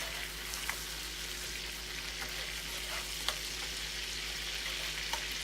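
Ginger paste frying with vegetables in a pan, a steady broadband sizzle with a low hum underneath and a few sharp spatters or utensil clicks scattered through, no talking.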